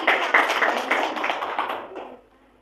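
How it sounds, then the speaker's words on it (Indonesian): A church congregation at a Pentecostal service claps together in a brief burst of many hands that fades out toward the end, loud and close, with no talking over it. "Tepuk tangan bagi Tuhan Yesus."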